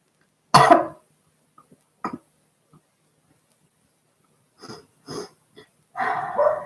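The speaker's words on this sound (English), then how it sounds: "Now you can hear my dog. She's all going off" A female dog barks and huffs at a distance indoors, a sharp single bark followed by scattered softer woofs and a last rough burst, with quiet gaps between.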